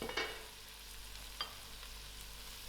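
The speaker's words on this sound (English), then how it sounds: "I'll leave this to fry out for another 2 minutes." Lentil filling for cannelloni fries in a pan with a quiet, steady hiss and sizzle, broken by a few soft stirring scrapes, close up and alone.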